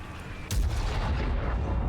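An ISU-122-2 tank gun fires once in World of Tanks, a single loud, close boom that rolls into a sustained low rumble over the game's background noise.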